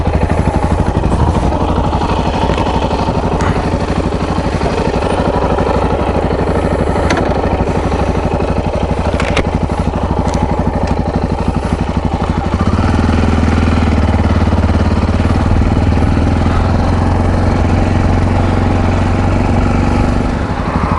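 Yamaha XT660Z Tenere single-cylinder motorcycle running under way, a loud steady engine drone with wind roar throughout, pitch shifting lower partway through as the bike changes pace.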